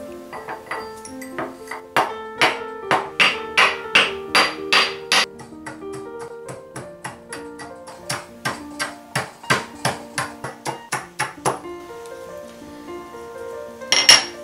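Rock salt pounded by hand for homemade chaat masala, a steady series of sharp ringing metallic strikes in quick bursts, loud and close, with brief pauses between runs.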